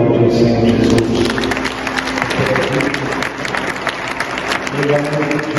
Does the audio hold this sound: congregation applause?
yes